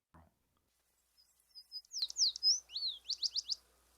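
American tree sparrow calling in winter: a short series of sweet, high whistled notes and quick rising chirps, fairly close, rising out of near silence after a faint click.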